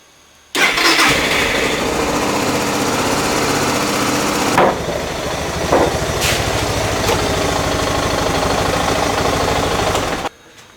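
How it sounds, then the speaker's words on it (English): A Suzuki DR650 motorcycle engine fires up and runs loud and close, settling into a steady idle with a brief dip in revs partway, then cuts off. "I'll go for a ride on the bike now and get the engine warmed up"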